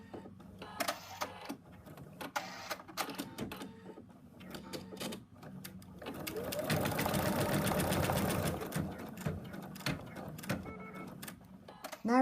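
An embroidery sewing machine stitches a frog design, securing one of its arms. Its rapid mechanical chatter swells loud and dense through the middle, with short bursts before and after and some talking around it.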